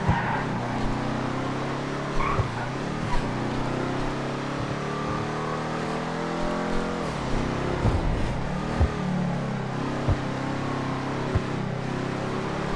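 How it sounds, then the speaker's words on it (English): A big taxi car engine in GTA 5 Online roars continuously, revving up and down with shifting pitch, loud and close, with occasional clunks. "This engine's too bloody big. Excuse me. Listen to this thing roar."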